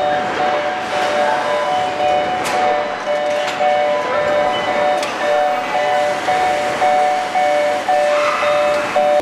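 An automated factory transport train moves between stops marked by floor reflectors, giving a steady mechanical hum, a sustained electronic warning tone and occasional sharp clicks, loud and close.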